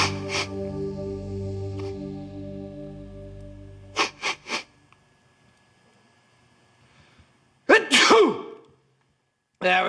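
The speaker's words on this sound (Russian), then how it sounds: "При чихании микробы вылетают изо рта со скоростью 160 км в час." A person sneezes after sniffing tobacco during a test of sneeze speed: a loud burst near the end, following a quieter stretch with a few short sharp sounds, with voices talking earlier.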